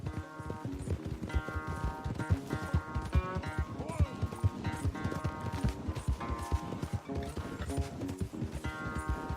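Horse galloping in the Red Dead Redemption 2 video game during a multiplayer race, with dense rhythmic hoofbeats running throughout over steady music and game sound.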